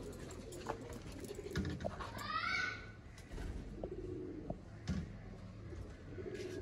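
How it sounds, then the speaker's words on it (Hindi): Sialkoti pigeons from a breeder's loft cooing softly at close range, low throaty coos repeating amid a busy background with a brief higher chirping call in the middle. "ये हैं सियालकोटी कबूतर"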